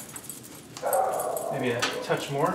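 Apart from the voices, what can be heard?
dog barking and whimpering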